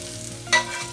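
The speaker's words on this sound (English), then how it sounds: "Onions and garlic, nice and softened down." Onions and garlic frying in a pan with a soft, steady sizzle and one short scrape of stirring, close and fairly quiet.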